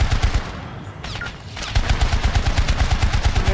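Rapid automatic gunfire in the Syndicate video game, a loud sustained burst of evenly spaced shots that briefly drops out near the middle and then resumes, with no talk over it.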